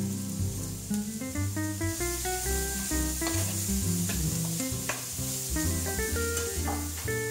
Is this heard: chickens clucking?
no